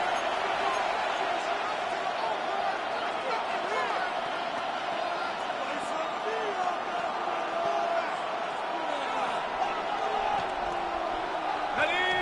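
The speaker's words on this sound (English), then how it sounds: "The crowd making their presence felt." Stadium crowd noise from the Madden 26 NFL video game during a third-quarter play, a continuous murmuring roar with scattered whoops and shouts, fairly faint and even throughout.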